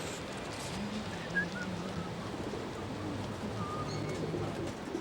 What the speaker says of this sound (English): the pigeons are noisy today